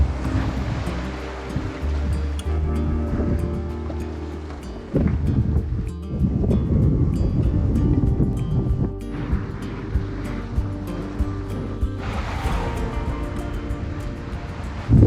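Sea waves wash and slap around a sailboat out on open water en route to the Bahamas, a steady close surging swash with gusts of wind buffeting the microphone and no talking.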